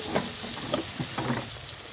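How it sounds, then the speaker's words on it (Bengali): Ground masala of salt, turmeric, chili powder, coriander powder and Maggi seasoning sizzles and fries in a pan for egg kofta curry, with soft stirring scrapes coming in short bursts. "দিয়ে ভালো করে কষে নেব"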